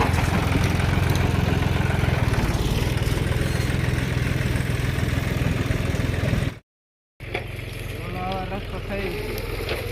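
A tractor engine runs on a farm path, a loud steady throbbing drone close by with people talking over it, briefly cut off before the engine noise resumes.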